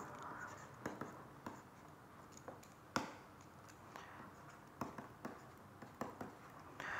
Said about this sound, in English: I am just writing the equation in the old form